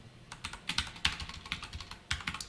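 Keystrokes on a computer keyboard as C code is typed during a programming lesson, quick irregular bursts of clicks with brief pauses, close and fairly quiet, no talking.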